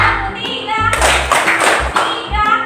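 Schoolchildren in an Indonesian classroom clap in a counted pattern, with short grouped bursts of handclaps separated by brief pauses, close and fairly loud, while a teacher's voice calls the counts between them.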